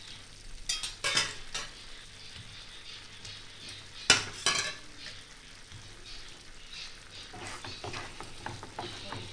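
Potatoes fry in oil-released spice paste for a broccoli curry, a continuous sizzle broken by several sharp clinks and scrapes of a utensil stirring against the pan.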